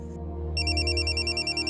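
A phone ringtone sounds briefly, a soft tone that gives way to a sustained electronic ring with bright, steady high chimes over a low hum, heard alone.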